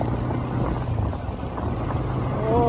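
A motorcycle engine hums smoothly and steadily through a bike ride, its low drone partly buried under constant wind rush across the microphone.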